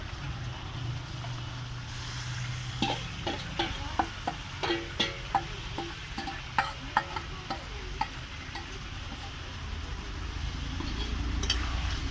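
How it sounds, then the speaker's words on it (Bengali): Meat added to hot cooked-down spice masala and fried, a steady sizzle under a run of clicking stirring and scraping taps through the middle, the frying swelling louder toward the end. "মশলাটা কষানো হয়ে গেছে, এবারে মাংসটা দিয়ে দেবে। এবারে মাংসটা দিয়ে দিচ্ছে।"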